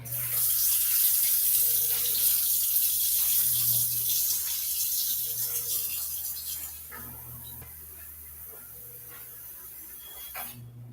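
Tap water running steadily into a cup while measuring water for bread dough, a continuous hiss that eases off and quiets toward the end, with no talk over it.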